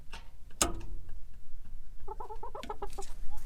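Chickens on a ranch cluck in short bursts of clipped, repeated calls close by, following a sharp brief knock, with no talk in the moment.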